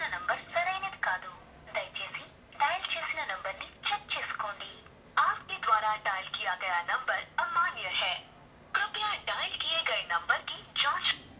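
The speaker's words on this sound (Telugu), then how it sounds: "నేను ఏదో డయల్ చేసి మీకు స్పీకర్ అవుట్‌పుట్ చూపిస్తాను" A phone call plays through the small built-in speaker of a Noise smartwatch, a voice coming out thin and band-limited in bursts of speech separated by brief pauses.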